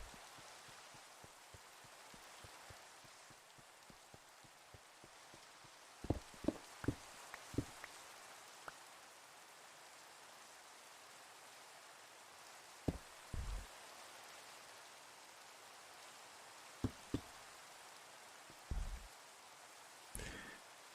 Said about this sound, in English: how many times does it rain today on stream?